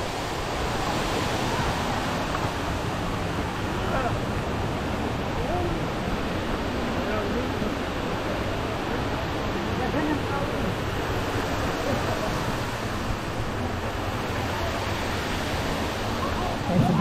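Rutledge Falls waterfall rushing steadily in a crowded natural swimming spot, a dense continuous roar with broad hiss and low rumble, constant in level throughout with no clear talk above it.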